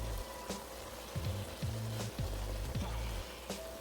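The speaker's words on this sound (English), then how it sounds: "we're going to add our fresh garlic" Seven cloves of freshly chopped garlic hit a hot pan for a tortellini meat sauce, setting off a steady sizzle and fry with a few faint clinks of a utensil scattered throughout.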